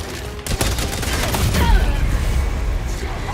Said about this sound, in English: Oh, that's artillery here.